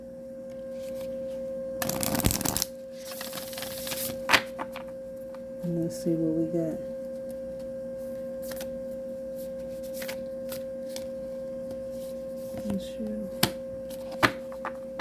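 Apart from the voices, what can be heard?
shuffling cards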